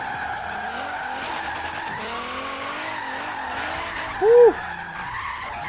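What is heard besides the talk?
tires skidding while drifting a Nissan 240SX in Forza Horizon 3 video game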